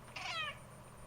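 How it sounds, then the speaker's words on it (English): A single short, fairly faint meow from a domestic cat, rising and falling over about half a second against a quiet background hum. "here's your cute cat for the stream"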